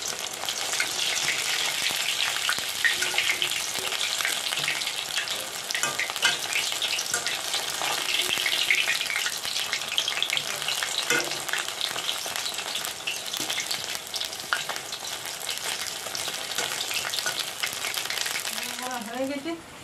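Grated radish fritters (bora) sizzle steadily in hot oil in a hill village kitchen, with occasional scraping and clinks as they are stirred and flipped.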